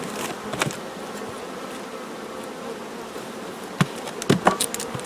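A honeybee colony buzzes steadily at the hive, a close, continuous drone with a few louder individual bees passing near the end.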